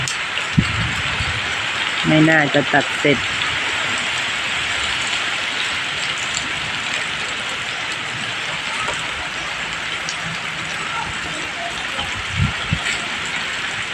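Continuous rain hisses over a backyard garden while a person speaks briefly near the start; a few thuds punctuate the steady downpour.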